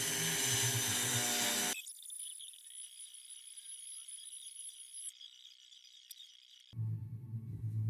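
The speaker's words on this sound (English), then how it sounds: "I have installed my Proxon drill now here to gently cut off the rear" A Proxxon drill mounted on a lathe trims the trailing edge of a turbofan shroud, giving a faint, steady high whine for several seconds between louder rough scraping at the start and end.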